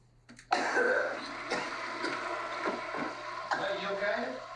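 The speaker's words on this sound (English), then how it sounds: "And that cough is bad." A man coughs and clears his throat harshly in a scene from a Breaking Bad episode, a few rough bursts close up with a faint steady hum underneath.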